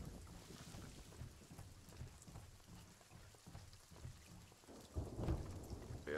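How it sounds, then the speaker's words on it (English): A video game thunderstorm at sea around a sailing ship: steady rain hiss with low rolling thunder throughout, swelling into a louder rumble near the end, with no talk. "this storm is right on top."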